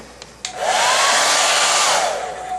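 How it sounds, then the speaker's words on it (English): A couple of clicks, then a hair dryer starts up and blows with a loud steady whoosh and whine before winding down at the end, used to heat a gun treated with Militec-1. "go ahead and hit it again with the hair dryer"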